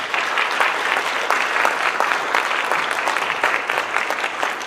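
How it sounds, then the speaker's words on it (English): A room full of people claps for absent educators at a top 5% student celebration, a steady, dense round of applause with individual claps standing out, continuous for several seconds. "They're not here, but can we give them a round of applause?"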